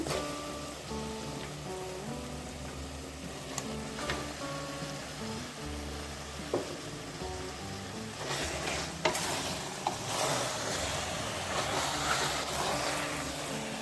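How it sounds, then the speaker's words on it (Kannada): Pieces of mutton frying with masala in a pan for Bhatkal mutton biryani, a steady sizzle with stirring and scraping clatter throughout, moderately close, with no talking. "ಮಸಾಲೆ ಜೊತೆಗೆ ಸ್ವಲ್ಪ ಹೊತ್ತು ಫ್ರೈ ಮಾಡ್ಕೊಳ್ಳೋಣ"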